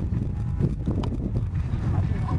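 Wind buffets the microphone at a beach, a steady low rumble filling the whole stretch with no gaps.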